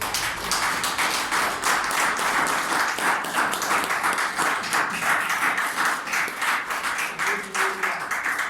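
Church congregation clapping in praise for several seconds, many hands beating a loose, regular rhythm at steady volume, fairly close, with no voices rising above it.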